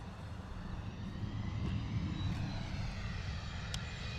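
A Cessna Citation CJ3 business jet turns on the ground at London Stansted Airport, its engines giving a steady, moderately distant roar that holds evenly throughout with no voices.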